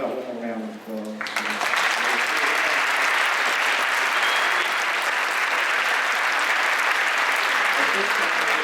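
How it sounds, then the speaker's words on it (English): Audience applause following a middle school honor band clinic concert, beginning after a short spoken moment and then rising into loud, steady, sustained clapping from a full hall. "how about one more round of applause?"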